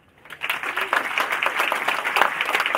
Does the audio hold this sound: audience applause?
yes